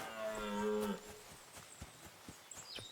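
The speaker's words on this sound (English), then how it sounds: "Very loud cow." A cow in the video game Kingdom Come: Deliverance II lets out a single loud, drawn-out moo lasting about a second, followed by quiet outdoor ambience with faint ticks.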